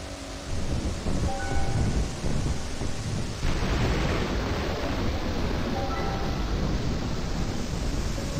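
Steady rainfall with a low rumbling thunder swell in the video game Pokémon Moon, a dense, even hiss that grows heavier after a soft start and continues alone with no talk.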